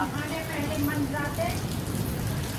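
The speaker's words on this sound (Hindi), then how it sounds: "और भाई बारिश आ रही है बहुत तेज़" Heavy rain pours down in a steady, dense hiss during cool, windy weather, with faint voices and scattered sounds mixed in under the downpour.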